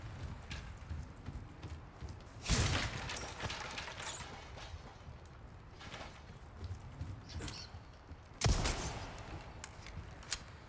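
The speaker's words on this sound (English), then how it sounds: "Definitely won't hear that gunshot either" Gunshots in the Resident Evil 4 Remake video game: two sharp loud blasts several seconds apart, each with a short ringing tail, over a quiet ambient game background.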